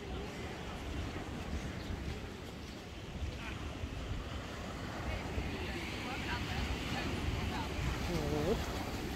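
Beach surf and wind at Kendwa Rocks, Zanzibar, a continuous low roar of waves with wind buffeting the microphone, steady and fairly loud throughout.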